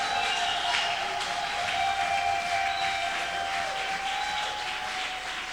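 Church congregation applauding a prophecy, a sustained dense wash of clapping with a steady high tone running through it, fairly constant in level throughout.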